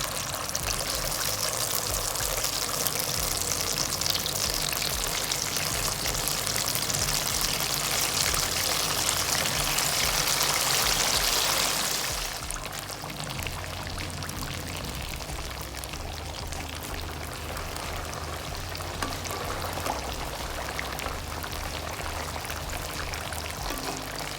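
Fish sizzling in hot oil during a Lahori fish fry, a loud, steady crackling hiss for about half the span that then drops to a softer, quieter fizz.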